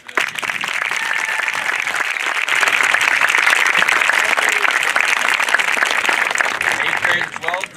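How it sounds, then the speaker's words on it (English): Sustained applause fills a school honors and step-up ceremony as the audience claps for students moving up to middle and upper school. The steady, even clapping lasts several seconds before tapering at the end. "One more round of applause for those kids."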